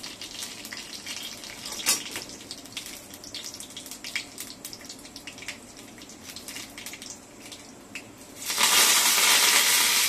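Urad dal frying in hot oil right after mustard seeds have popped, a steady crackling sizzle with scattered pops that swells into a loud, dense hiss near the end, close and with no talk.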